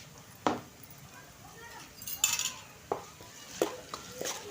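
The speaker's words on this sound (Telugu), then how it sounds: "కొద్దిగా అల్లం పేస్ట్ అయితే వేసుకొని బాగా కలుపుకోవాలండి." Ginger paste is stirred in a metal cooking pan with a spoon, a few sharp scrapes and clinks spaced out over faint background, with a voice speaking in between.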